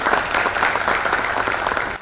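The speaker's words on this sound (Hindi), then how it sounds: "तो एक बार फिर से ज़ोरों से तालियां हो जाए हमारे सभी जूरी मेंबर्स" An audience at an environmental excellence awards ceremony applauds the jury members, giving dense, sustained clapping throughout that cuts off at the very end.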